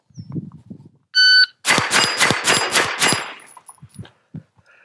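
Davinci DG-9 competition pistol-caliber carbine firing Blazer Brass 124-grain rounds at steel targets: a rapid string of about six sharp shots with ringing steel clangs, preceded by a loud electronic timer beep.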